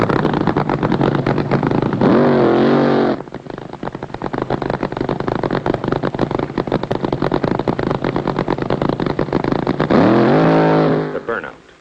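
A drag racing car thunders through a burnout, an extremely loud, sustained engine roar with two sharp rising revs, one early and one near the end, before the noise cuts off abruptly.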